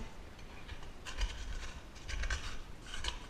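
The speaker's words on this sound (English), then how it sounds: "So now we're going to scrape this out." A spatula or scraper rasps against the inside of a mixing bowl while pizza dough is worked free, in a few soft, close scraping strokes with brief pauses between them.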